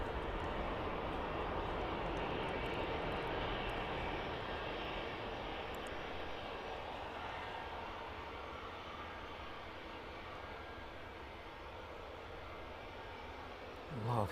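Jet airliner on the runway at East Midlands Airport in the evening, a loud, steady engine roar that holds close for the whole stretch, easing slightly midway before swelling again at the end.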